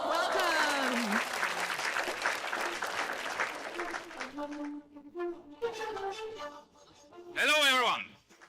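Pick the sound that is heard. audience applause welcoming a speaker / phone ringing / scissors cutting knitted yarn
audience applause welcoming a speaker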